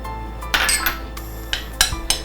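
A spoon clinks sharply against a bowl a few times while mixing a dry masala of salt, cornflour and chilli powder, with quiet pauses between strikes.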